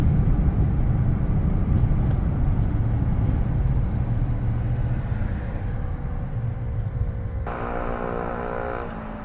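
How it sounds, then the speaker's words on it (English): A Ford car drives past on a downtown Nashville street, its loud, steady engine roar and road noise filling the scene, with a harsher, buzzing tone entering near the end. "What is that racket? Oh, it's a Ford."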